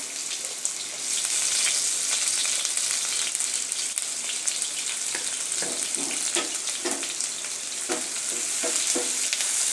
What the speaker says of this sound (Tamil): இப்போ இதில் ஒரு பெரிய வெங்காயம் நம்ம நறுக்கி சேர்த்துருக்கோங்க